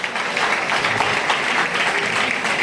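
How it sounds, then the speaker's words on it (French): Steady, dense applause fills a church gathering at a day of teaching and prayer as the congregation rises to acclaim the Virgin Mary, loud and continuous without a break. "on se lève pour acclamer la Vierge Marie pour notre cœur"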